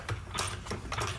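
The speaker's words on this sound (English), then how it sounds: "Now we're gonna get our floor jack again," A floor jack ratchets up under a Jeep Wrangler JL axle during a lift kit install, giving three or four close, crisp mechanical clicks and clanks in quick succession.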